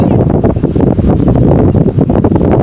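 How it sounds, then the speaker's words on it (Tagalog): Strong wind buffeting the microphone, a loud, continuous roaring rumble with gusty swells and no voices. "Ang ganda ng hangin guys."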